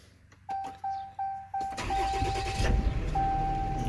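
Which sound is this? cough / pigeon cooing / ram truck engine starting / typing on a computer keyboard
ram truck engine starting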